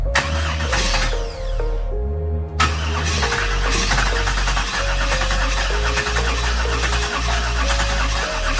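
Chevrolet Camaro engine cranking and trying to catch, a close, loud, rough churning with uneven pulses and a brief pause, running on without settling into a steady idle.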